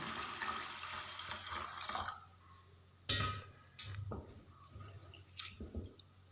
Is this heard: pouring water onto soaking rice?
yes